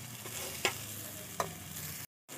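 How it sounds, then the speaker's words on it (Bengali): Mashed beans with salt and turmeric fry and get stirred in a pan: a soft, steady sizzle with two distinct spoon scrapes, then a short gap of silence. "একটু লবণ দেব, একটু হলুদ দেব, দিয়ে ভালো করে নাড়ব।"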